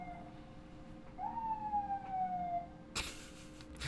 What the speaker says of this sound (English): I'm gonna let the siren pass.